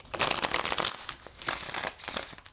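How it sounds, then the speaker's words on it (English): Tarot cards being shuffled by hand, a dense papery crinkling and riffling in close, continuous bursts with brief pauses, heard alone without talk. "Look at the cards, y'all. The way they're shuffling."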